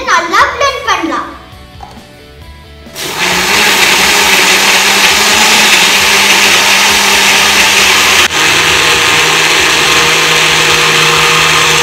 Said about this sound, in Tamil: இப்போ நம்ம இதை நல்லா blend பண்ணலாம்.